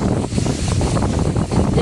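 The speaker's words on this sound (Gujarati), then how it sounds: "વાવડો બહુ છે મિત્રો" Strong wind blows outdoors at a stepwell, a loud, continuous rushing buffet on the microphone lasting the whole short moment.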